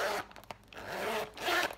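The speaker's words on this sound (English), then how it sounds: "Great zippers." A zipper on a clear see-through Dooney & Bourke DB makeup case is pulled in two quick, close strokes with a short pause between, crisp and alone without talk.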